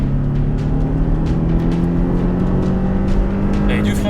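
A Porsche Cayman accelerating hard on a race circuit, its engine a loud, steady drone with a slowly climbing pitch, continuous and close for the whole stretch.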